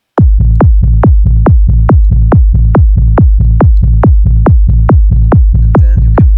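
Goa trance synth bassline with the EQ switched off, a loud, steady train of punchy, deep bass notes pulsing at an even fast rhythm for several seconds, with no voices.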